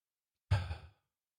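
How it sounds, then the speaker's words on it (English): One deep exhaling sigh comes during an EFT tapping exercise. It is a single close breath of about half a second, alone in silence. "Take another nice big deep breath for me."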